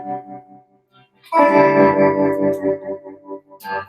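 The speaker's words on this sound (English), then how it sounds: "So that's bias tremolo." A guitar through an amp's bias tremolo effect, with 65 reverb in play, strikes a sustained chord whose volume pulses in a steady wavering rhythm, loud and close, then a brief further strum near the end.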